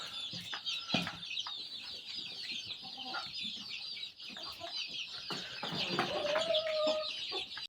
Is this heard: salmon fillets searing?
no